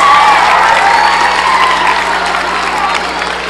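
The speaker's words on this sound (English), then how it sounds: "give yourselves a round of applause for that" A room full of Hill Country Middle School students claps and cheers, a dense wash of applause at steady volume that tapers off slightly toward the end.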